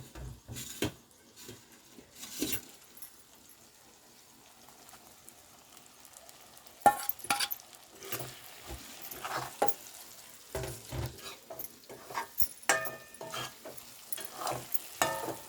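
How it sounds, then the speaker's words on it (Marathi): Fried eggs and boiled potatoes go into sizzling biryani masala in a pan: steady frying sizzle with bursts of stirring and scraping, loud and close, rising and falling throughout with no talk. "आणि जे आपण अंडी फ्राय केले होते ते पण टाकणार आहोत"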